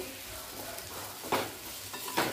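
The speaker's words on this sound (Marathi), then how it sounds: "अर्धा मिनिट मिडियम टू लो गॅसवर ठेवायची कैरी, म्हणजे खराब होत नाही" Raw mango cooking in a pan over medium-low gas, a soft steady sizzle with two brief stirring scrapes near the end.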